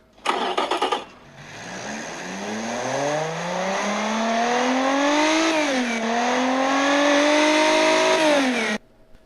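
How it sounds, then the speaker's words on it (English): The Batmobile in the video game Batman: Arkham Asylum starts with a short mechanical burst, then its engines roar up in a long, climbing, powerful drone that dips once and surges again before cutting off abruptly. "The Batmobile's engines roar to life, and it begins driving towards the signal of the PDA."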